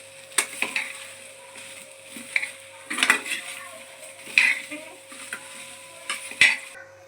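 Okra pieces are dry-roasted and stirred in a pan, light sizzling beneath repeated scraping and clinking of a metal spatula against the pan in irregular bursts, fairly quiet and close.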